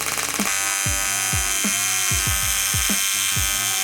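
AC arc welding on a cast metal part for an engine swap on a turbo BMW E28, a steady loud electric buzz and crackle running throughout with repeated low thumps and clanks beneath it.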